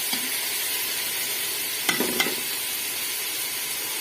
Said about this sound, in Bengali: এটা ব্রাউন করে ভেজে নিয়ে তারপর রান্না করব